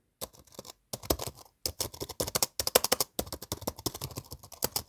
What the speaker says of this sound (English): And this is what the keyboard sounds like.